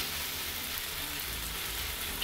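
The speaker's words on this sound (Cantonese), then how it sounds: "煎一煎啲豆乾先" A low, steady sizzle of dried tofu pan-frying in hot oil in a wok, constant and fairly quiet throughout, with no other sounds.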